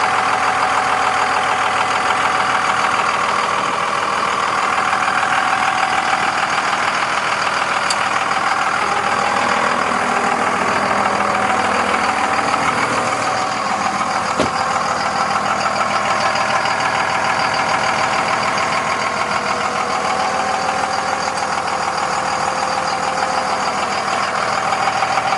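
A 2002 Ram pickup with its Cummins diesel engine idling steadily throughout, a continuous even rumble with a slight knocking clatter, close by and unbroken, no talking.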